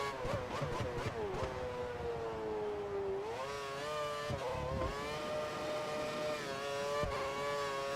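A Formula 1 race car engine in the F1 2013 racing game wails steadily at high revs, its pitch climbing and shifting with gear changes, loud and continuous with no talking.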